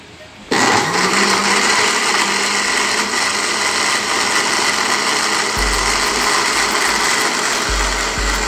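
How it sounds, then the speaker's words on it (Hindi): An electric blender whirs loudly and steadily as it blends lychee pulp with water, starting abruptly and holding a constant high-pitched motor roar with a deeper hum surging near the end. "अब हम इसको बंद करते हैं और इसको ब्लेंड करेंगे।"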